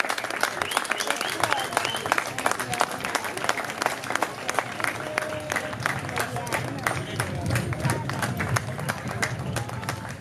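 An audience claps steadily for the Fonyód floorball players, a dense round of applause from a crowd with a person talking through it.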